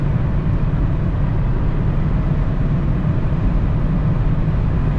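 A 2023 Hyundai Tucson hybrid running flat out on the German Autobahn, a dense, constant roar of wind, tyres and drivetrain, loud and unbroken, with no talking.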